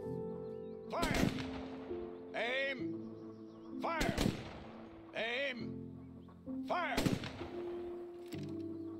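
Gunfire in the video game A Way Out: three or four loud, sharp shots spaced a few seconds apart, each with a ringing tail over a low sustained music bed.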